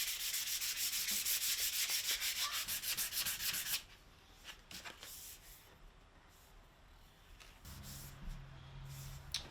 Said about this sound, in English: I'm doing the final hand sanding on this rosewood handle.